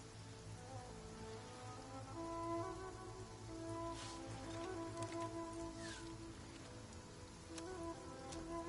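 Steady heavy downpour, rain drumming on surfaces in a dense continuous hiss with scattered louder drops, close and unbroken throughout.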